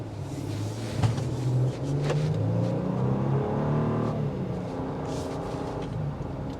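A 2025 Infiniti QX80 with a twin-turbo V6 accelerates, its low engine hum rising steadily and staying fairly quiet and smooth throughout, heard from inside the cabin with no talking.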